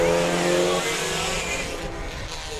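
A factory front-wheel drive race car at full throttle in an oval heat at the Indianapolis Speedrome, its engine hitting the rev limiter at 9,000 RPM: a loud, strained, buzzing drone that fades slightly as the car moves away.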